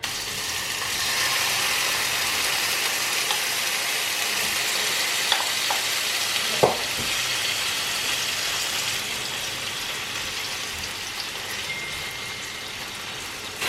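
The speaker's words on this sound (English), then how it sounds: "so my oil is nice and hot now. I'm going to start adding in the shrimp" Shrimp frying in hot oil for a jerk shrimp pasta, giving a steady, dense sizzle close by, with a couple of brief clicks partway through and no talk.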